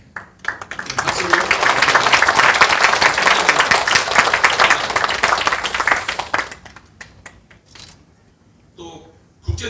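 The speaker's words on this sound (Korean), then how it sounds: "네, 박수로." An audience at a documentary film screening event claps loudly and steadily for several seconds, then the applause tapers off into scattered claps and quiet room sounds.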